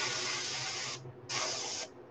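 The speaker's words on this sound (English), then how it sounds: "So I'm just spraying a little bit of texture around the gill plate area" An airbrush sprays texture onto a fishing lure around the gill plate area in two close, steady hissing bursts, the first about a second long, then a short pause before the second.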